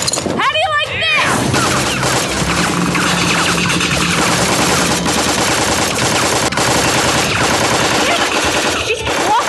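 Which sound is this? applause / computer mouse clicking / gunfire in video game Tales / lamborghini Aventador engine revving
gunfire in video game Tales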